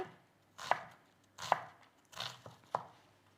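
Four distinct knife strokes chopping onions on a cutting board in a kitchen, each a sharp crisp thunk with a short slicing rasp, spaced about a second apart and close by.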